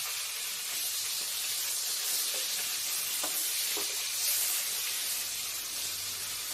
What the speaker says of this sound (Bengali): এবার মাছটা ভাজা হতে থাক।